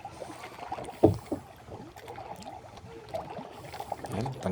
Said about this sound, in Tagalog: Tingnan mo naman yung ating mga pagsagwan dyan mga idol kahit malakas yung agos dyan mga idol